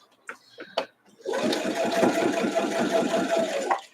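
A domestic sewing machine that needs oiling stitches a quilt block in a steady, fast mechanical whir, lasting nearly three seconds after a couple of brief knocks and a snippet of speech at the start.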